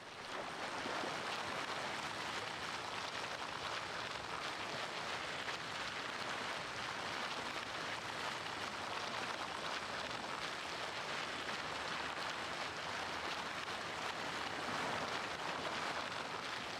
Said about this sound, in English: I didn't even want to leave the house to go get in a car